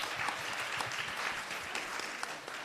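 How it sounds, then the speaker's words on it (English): An audience applauds, a steady, dense wash of many hands clapping at moderate loudness that continues for the full few seconds without letting up. "So let's just give her a round of applause."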